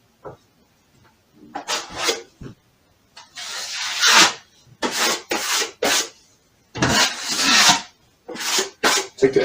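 Joint compound spread across an uneven patch of wall with a trowel: a run of close, moderately loud rasping scrapes in short bursts separated by pauses, with no talking.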